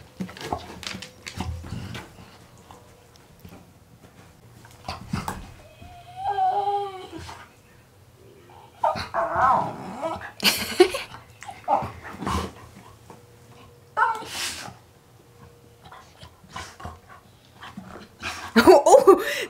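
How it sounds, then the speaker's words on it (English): A German Shorthaired Pointer and a Labrador play-fight, giving scattered whimpers, whines, grumbly growls and short yips. The sounds come close and intermittently over a quiet indoor background. "Oh, Zazu's trying to nibble on Walle today."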